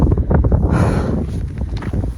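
Strong wind on Mount Kosciuszko buffets the microphone with a constant low roar and rumble throughout.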